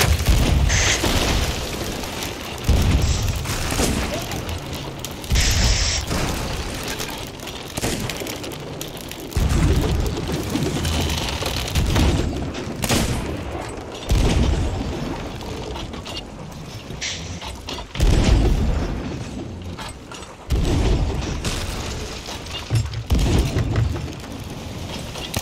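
Cannon fire and explosions during a multi-ship pirate naval battle in Sea of Thieves, with repeated heavy booms and blasts every few seconds, loud and close over a constant din of battle.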